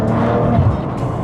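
A Maserati Ghibli S Zegna gives a deep, rumbling exhaust note, loud and close, with a throaty burble that swells and eases over a brief moment.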